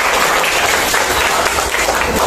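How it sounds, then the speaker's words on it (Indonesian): A classroom group claps together on a teacher's cue during a Youth Day lesson, dense applause held steady and loud for the whole stretch with no voices over it. "tepuk tangan dulu semua"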